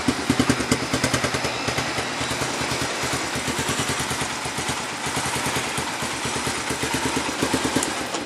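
A 1985 Honda Fourtrax 250 ATV idles close by, its single-cylinder engine putting out a steady, loud, rapid chugging pulse with slight uneven surges throughout, no voices over it.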